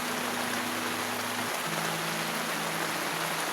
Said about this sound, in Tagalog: At patuloy pa rin umuulan.